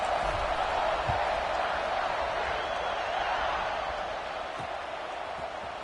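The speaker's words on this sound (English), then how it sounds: "this crowd is buzzing after that last score" A College Football 26 stadium crowd at an Ohio State vs Michigan game keeps up a steady, dense roar of buzzing fans, loud and unbroken throughout.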